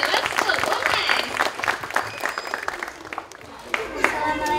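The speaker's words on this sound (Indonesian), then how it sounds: "Langsung aja kalau begitu kita tepuk tangan untuk ada yang storytelling dari SD Lab School UNES." An audience applauds a storytelling performer from SD Lab School UNES at a televised school event, a steady wash of clapping filling the whole stretch at moderate loudness.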